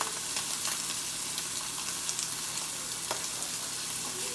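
Steak fries in a pan, giving a continuous, fairly quiet sizzle with small crackles and pops close by, no talking.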